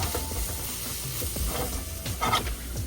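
Boiled mushrooms stir-frying in a pan for japchae, a soft hiss and sizzle with a few stirring scrapes over a short moment, quiet and close.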